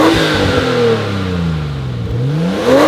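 A Nissan R34 Skyline with its stock exhaust revs up loudly, the engine note sweeping down and climbing again in a close, steady run with no talk over it.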